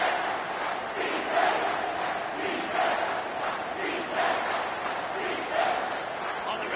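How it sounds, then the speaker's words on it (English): Stadium crowd at an LSU vs UT football game on third down, a dense continuous roar with rhythmic swells of chanting or yelling rising every second or so, steady and sustained throughout. "Third down, and the crowd really getting into it."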